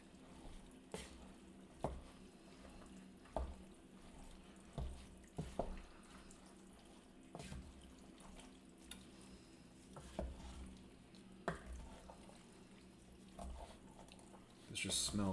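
A spoon stirs chili in a pot, giving quiet, irregular scraping and thudding strokes over a soft sizzle, faint and close.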